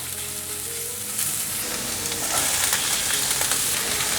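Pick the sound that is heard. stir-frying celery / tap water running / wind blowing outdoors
stir-frying celery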